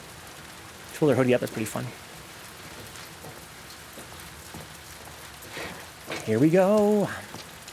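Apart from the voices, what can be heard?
rain outdoors in video game The Last of Us Part II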